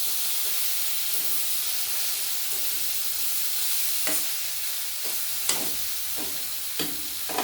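Eggplant, potato and beans sautéing with spices in a pan, a constant hissing sizzle with occasional spoon scrapes and clicks against the pan, close and steady with no talking.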